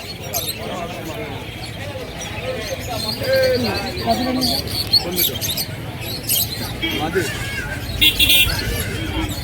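Large pigeons for sale at a village bird market, soft coos and chirps mixed into busy crowd chatter, with people talking nearby throughout.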